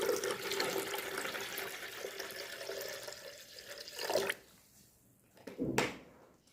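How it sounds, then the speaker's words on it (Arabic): Filtered tap water poured into a blender jug, a steady splashing stream for about four seconds, then a brief second splash after a pause, close and moderately quiet. "نبدأ ان احنا نحط عليها كوبايتين مية عادية خالص من الحنفية، بس اهم حاجة تكون مية متفلترة."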